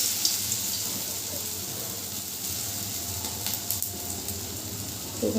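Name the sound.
gadal leaf fritters (bora) frying in hot oil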